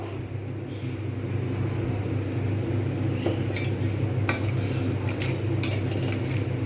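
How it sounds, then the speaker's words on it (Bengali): Banana flower being stir-fried in a brass wok over medium-high heat, a steady low cooking rumble with a few sharp metallic scrapes and clinks of the spatula against the pan. "এটা একটুখানি ভালো করে কষিয়ে নেব"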